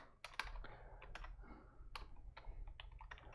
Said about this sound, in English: watch what happens when I type print